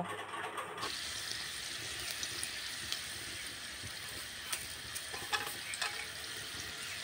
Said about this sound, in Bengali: উনানে কড়া বসিয়ে দিয়েছি আর কড়ার মধ্যে আমি তেল দিয়ে দিয়েছি। তেলের মধ্যে আমি প্রথমে শুকনো লঙ্কা আর রসুন দেব।